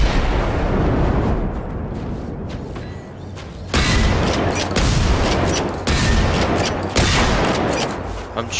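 Rapid gunfire bursts in the video game Generation Zero as players shoot at robots, loud repeated volleys with short gaps between them.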